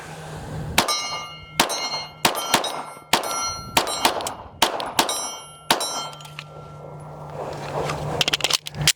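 Rost Martin RM1C pistol shots on a range, each followed by a ringing clang off a steel target at about 16 yards, about a dozen loud hits coming in quick, uneven succession with lingering metallic rings.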